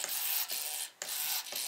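A small RC servo driving a model plane's aileron, a buzzy whirring motor sound in short sweeps separated by brief pauses, close and fairly loud, with no talk.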